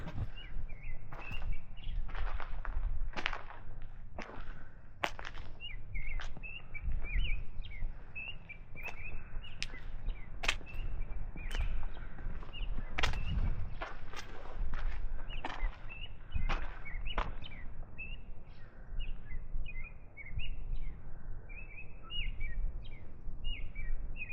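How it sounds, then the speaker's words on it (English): Birds sing outdoors in the early morning around sunrise, with many overlapping chirps and calls, some close and sharp, over a soft ambient background. "I usually like to go outside and listen to the choir of birds for a little bit"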